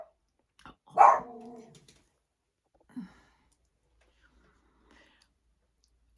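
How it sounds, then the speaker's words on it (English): A dog barks at the mailman indoors, one loud close bark followed by a short trailing yelp and a faint second sound a couple of seconds later, then quiet. "that's my dog barking at the mailman"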